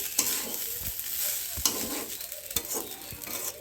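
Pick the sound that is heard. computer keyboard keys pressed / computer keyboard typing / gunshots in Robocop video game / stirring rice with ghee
stirring rice with ghee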